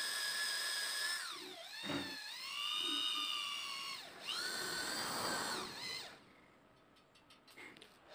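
A power drill whines close by as it bores into hard sonokling wood for a small knife handle, its pitch sagging and recovering under load over several bursts before winding down.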